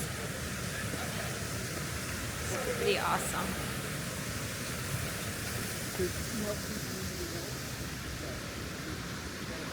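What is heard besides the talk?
creek water flowing beside a hiking trail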